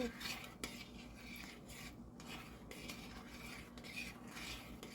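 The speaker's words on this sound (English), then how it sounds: "Keep stirring and stirring and stirring." A utensil scrapes and stirs steadily through vegan broccoli cheese soup in a pot, with nutritional yeast and garlic, close up and continuous, with small metallic knocks and no voices.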